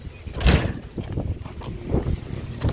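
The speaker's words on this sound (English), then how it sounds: "it's windy out here and everything." Wind gusts buffet the microphone outdoors on a hay farm, giving brief uneven rumbling bursts over a few seconds with no talking.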